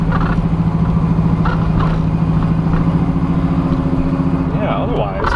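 Second-generation Chevrolet Camaro Z28, driven after sitting unused for five years, its engine giving a steady loud rumble while cruising, with people talking over the drone.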